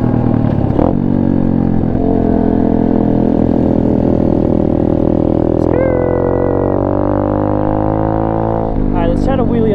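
Apollo RFZ Chinese pit bike engine, freshly repaired, idles loud and close, then revs up in a rising pitch sweep and falls back before revving again near the end.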